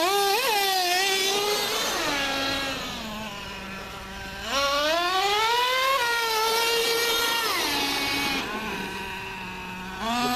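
Traxxas T-Maxx nitro RC truck engine screams loudly, revving up and down in strong harmonic sweeps, easing off briefly around the middle before winding up again near, with no voices.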